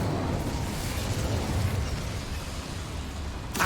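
The Incendio fire spell cast in the video game Hogwarts Legacy: a steady roaring, crackling whoosh of flame lasting several seconds at an even loudness, ending in a brief bright burst, with no talking.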